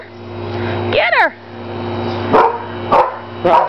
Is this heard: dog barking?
yes